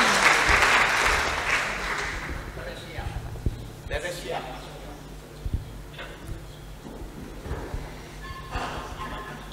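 Audience applause at an executive lecture event, with a burst of clapping at the start that fades into scattered claps, thumps and a speaking voice.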